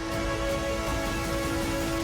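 Dense, unbroken hiss of heavy rain pouring down on Mumbai during monsoon waterlogging, a constant wash under a faint steady tone.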